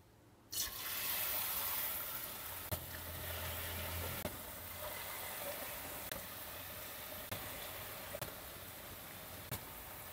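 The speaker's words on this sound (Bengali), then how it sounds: "এখন আমি তেলে ছেড়ে দেব।" Potato papri pakoras drop into hot oil and a sudden broadband sizzle bursts in, then settles into a steady bubbling hiss with a few faint clicks, close by and without talk.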